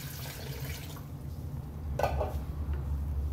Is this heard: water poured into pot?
yes